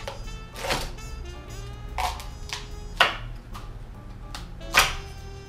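A knife cuts through a spaghetti squash into two-inch slices, with four separate crisp chopping thunks spaced about a second apart, the blade striking the board close by against a faint hum.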